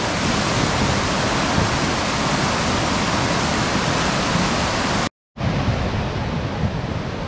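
Powerful rushing water and waves fill the scene, heard while descending a river at around 40 km/h through an unusual landscape in the Aure valley, a steady loud roar broken by one brief cut before resuming.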